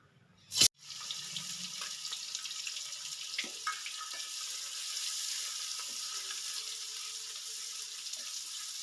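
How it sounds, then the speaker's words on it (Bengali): Chopped onions hitting hot ghee and oil with a sharp splash, then a steady broad sizzle of frying that carries on evenly, close up, with faint stirring clicks. "তেল গরম হয়ে গেছে এবার কুচনো পেঁয়াজগুলো দেব দিয়ে একটু ব্রাউন কালার করে ভেজে নেবো"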